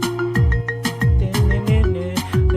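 A cheerful chiming phone ringtone from a video game repeats its short melodic phrase several times, loud and close, with no voices over it.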